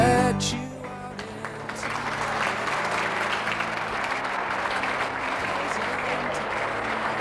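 Pageant audience in Jaboticabal applauds steadily, a dense wash of clapping sustained from start to finish after a brief musical tail at the beginning.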